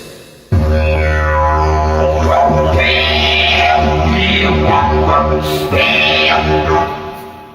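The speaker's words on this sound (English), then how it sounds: "It's called the didgeridoo." A loud, deep droning didgeridoo with a steady low pulse and shifting, buzzy overtones that swell and change rhythmically.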